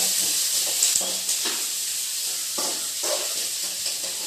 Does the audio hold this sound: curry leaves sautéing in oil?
yes